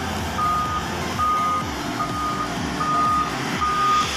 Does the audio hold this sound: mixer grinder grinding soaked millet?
no